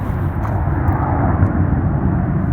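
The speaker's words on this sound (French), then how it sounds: "l'écho de l'avion qui vient de décoller" A distant airplane that has just taken off gives a steady, broad roar that fills the whole stretch without pause, far off and echoing, with no voices.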